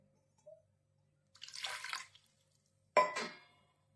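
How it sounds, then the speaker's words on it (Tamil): Water is poured into a pot to boil palmyra tubers, a short faint splash followed by two bursts of pouring and splashing, the second louder and sharper, in a quiet kitchen. "பனங்கிழங்கு வந்து வேகிறதுக்கு தேவையான தண்ணி ஊற்றிக்கிறேன்"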